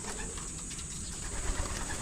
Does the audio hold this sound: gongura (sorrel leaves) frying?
no